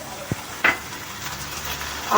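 Jackfruit, onion and diced potato frying in an oil-filled pan for a jackfruit korma, with a soft steady sizzle, a couple of quick stirring scrapes and a clink near the end.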